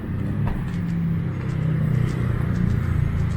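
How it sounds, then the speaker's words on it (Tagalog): Steady low rumble of road traffic in Bonifacio Global City, Taguig, heard from the sidewalk: engines idling and rolling past at moderate distance, a continuous drone with no voices. "Traffic na oh."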